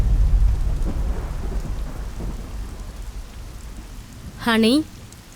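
A thunderstorm in a thriller film scene, with a low rumble of thunder at the start fading into steady rainfall hiss, then a brief, bright warbling tone cutting through near the end.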